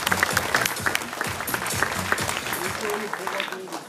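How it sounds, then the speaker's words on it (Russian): Audience applause at a Nizhny Novgorod regional boxing federation tournament ceremony, a steady wash of clapping under a voice speaking over a public address system. "Аплодисментами поддержим."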